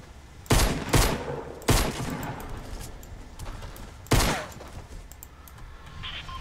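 Gunfire in the video game Fortnite: three sharp, loud shots at uneven spacing, ringing out over a steady game background with no talk.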